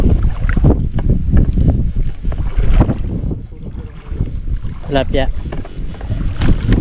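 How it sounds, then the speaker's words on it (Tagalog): Strong gusts buffet the microphone outdoors by the water near a boat, a loud, steady low roar rising and falling under nearby talk throughout. "Ang lakas po ng hangin."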